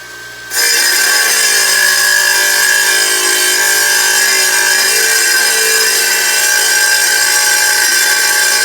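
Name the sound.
saw cutting 2.5 inch wood pieces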